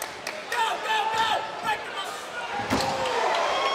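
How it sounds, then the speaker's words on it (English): An MMA fighter slams his opponent onto the mat during a live amateur bout, a heavy thud amid crowd noise and excited commentary talking over the action. "Big slam from Skuta, but they're back in the triangle."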